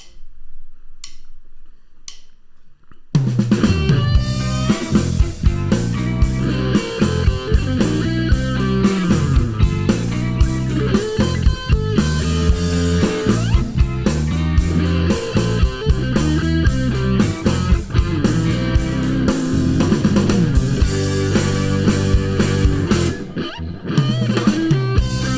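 A blues-style music mix plays with a stereo ping-pong delay and reverb, the repeats bouncing between left and right for about twenty seconds after a quiet start, loud and dense throughout.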